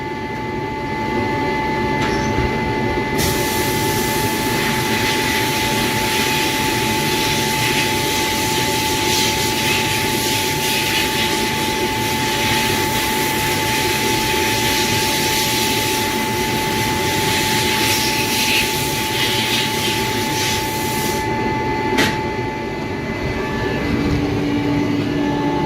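Bead blasting a Weber 32/36 DGAV carburettor with compressed air at around 40 psi: a loud, continuous roaring hiss of blasting media that runs steadily for about twenty seconds, with a brief quieter stretch at the start and end.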